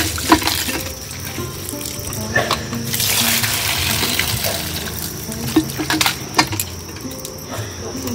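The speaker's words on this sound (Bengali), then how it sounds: "এবার ভালো করে মাছটা ধুয়ে নেব। মাছের ডিমটাও ধুয়ে নেব ভালো করে।" Running tap water pours steadily while a cut fish and its roe are rinsed by hand, with intermittent splashes and handling noises close by and a voice talking over it.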